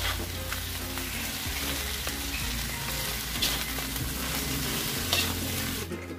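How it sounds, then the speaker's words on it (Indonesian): Sliced water spinach is stir-fried for fried noodles: a loud, continuous close sizzle with scraping stirs throughout and a faint tonal hum underneath. "Kemudian masukkan kangkung yang telah diiris-iris, dicuci bersih. Kemudian aduk."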